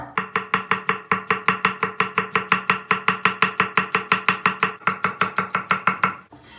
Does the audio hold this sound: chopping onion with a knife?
yes